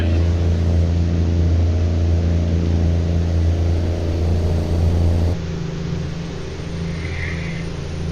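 Truck engine in American Truck Simulator, a steady low droning rumble that runs continuously, dropping slightly in level partway through, with no talking over it.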